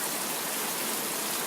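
Heavy rain pours steadily off a house in the countryside, a dense, even hiss that holds without a break, close and loud, with no voices.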